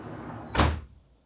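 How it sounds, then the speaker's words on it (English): A door closes in a room with a single solid thud and brief rattle, followed by quieter room tone. "Can you just close the door, please?"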